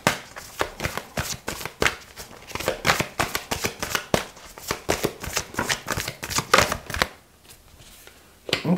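Oracle cards shuffled close up in a rapid, steady series of crisp riffling slaps and flutters for about seven seconds, then a brief quiet pause before a final rustle.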